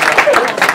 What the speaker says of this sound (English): Round of applause for both teams, please, for getting this far.